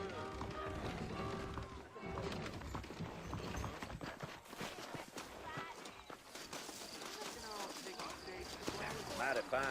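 Rhythmic clip-clop of horse hooves walking, steady and close, in the video game Red Dead Redemption, mixed with game sound effects and voices talking over it.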